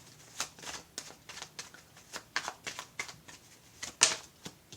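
Tarot cards are shuffled for a cross spread, giving a quick run of crisp riffling and tapping bursts at an uneven rhythm, close up with no talk over them.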